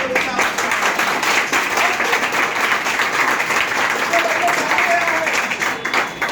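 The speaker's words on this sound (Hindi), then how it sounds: "सर के लिए जोरदार तालियां" An audience at a yoga training and awareness event in Prayagraj gives steady, loud applause, a dense continuous clatter of clapping throughout, with voices mixed in.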